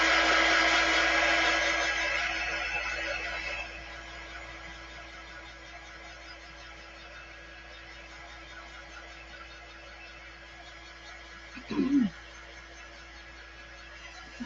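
A hair dryer blows on wet paint on a snowman craft block, loud and steady at first, then dropping to a quieter continuous whir with a brief clunk near the end.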